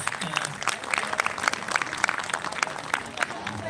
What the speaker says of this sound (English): will you please put a round of applause for them, please?